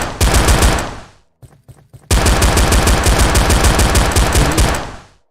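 Rapid automatic gunfire from a CopperCube-engine video game, loud dense bursts that run for over a second, pause for a few scattered single shots, then resume in a long sustained volley before cutting off.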